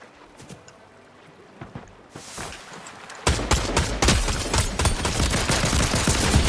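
Rapid bursts of minigun fire rattle in a video game, sparse shots at first and then a dense, loud continuous stream of gunfire over the second half.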